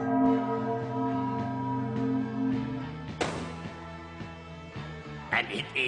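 A set of chimes rings out on a comedy horror television show, sustained metallic tones followed by a series of struck notes that decay and overlap, loud and close.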